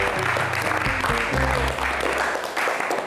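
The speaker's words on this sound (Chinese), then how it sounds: "特别棒，掌声给自己。" Audience applause at a televised dance competition stage assessment, a steady burst of clapping lasting a few seconds, close and full.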